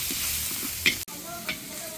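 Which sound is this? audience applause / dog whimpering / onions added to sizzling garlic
onions added to sizzling garlic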